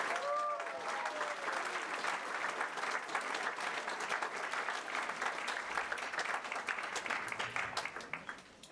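Convention audience applauding for a guest called up on stage, a sustained crowd of clapping hands with faint voices beneath, fairly distant and steady before easing off at the close.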